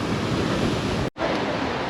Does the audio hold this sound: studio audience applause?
no